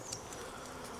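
Faint, close buzzing of honeybees on a hive frame, including fluffy young white bees, a soft steady hum for about a second with no talking.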